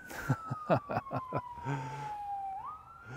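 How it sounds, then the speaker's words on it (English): A distant siren wails up a hill in Mukilteo, Washington, with a slowly falling tone, then rises again, heard faintly behind a few nearby clicks and thumps. "That's a siren going up the hill here at Mukilteo."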